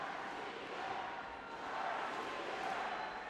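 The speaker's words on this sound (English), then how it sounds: "Another packed crowd in the Tractor Arena." Packed crowd in the Tractor Arena at a senior world wrestling championship, a dense, steady roar of many voices filling the hall at moderate level without pause.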